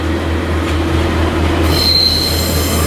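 Train wheels squeal on the rails as a Scunthorpe-bound train pulls out of Doncaster station, a loud steady metallic screech over a low rumbling hum, a higher whine rising near the end, with no talking.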